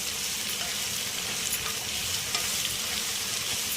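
Ivy gourd (dondakaya) frying on a low flame keeps up a dense, even sizzle, close by, with occasional soft stirring scrapes.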